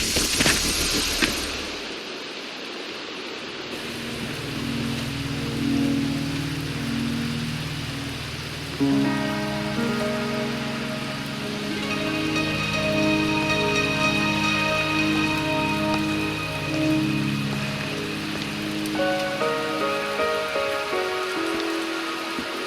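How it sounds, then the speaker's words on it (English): Steady rain patters across surfaces in the video game Wuthering Waves, with a soft music bed of sustained tones rising underneath after the opening seconds. "Are you trapped here by the rain?"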